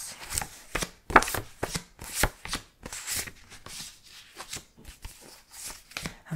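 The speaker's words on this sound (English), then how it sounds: "I hope you enjoy the sounds of flipping through" Pages of photo albums being flipped up close, giving soft, crisp papery swishes and flaps in an irregular rhythm, quiet and with no talking.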